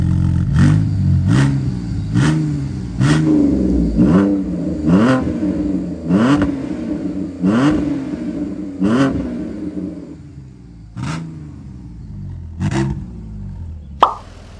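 A stock car engine revs again and again in short regular bursts, each throaty rise falling back before the next, close and loud with no talking.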